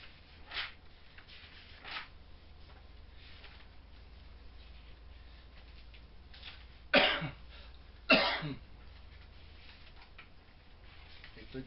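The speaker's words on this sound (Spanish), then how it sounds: "estoy con bastante tos hoy." A lecturer coughs twice in quick succession during a class, two loud dry bursts standing out against a quiet room with a few faint softer sounds earlier.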